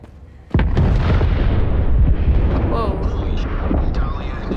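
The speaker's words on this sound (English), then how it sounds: "A huge explosion, a few clicks north of your position." A huge explosion in the shooter game Zero Caliber erupts sharply after a half second of quiet, then a heavy rumbling roar rolls on with scattered crackles to the end.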